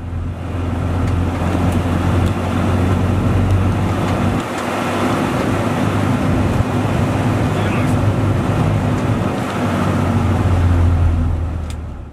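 Loud, constant cabin noise from inside a UAZ Hunter accelerating to 80–90 km/h, with a deep engine drone and road roar that fills the whole clip.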